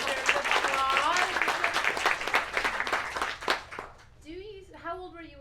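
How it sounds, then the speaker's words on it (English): Audience applause at a bookstore author event for a novelist, a dense wash of clapping beneath overlapping voices that thins out as a person resumes speaking. "that deserves applause"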